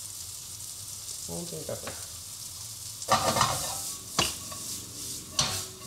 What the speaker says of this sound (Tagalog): Now, let's saute our carrots.